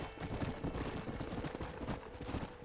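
A horse gallops in the video game Red Dead Redemption, its hooves drumming in a fast, steady clip-clop rhythm at close range under a dense, noisy game soundscape, with no one talking.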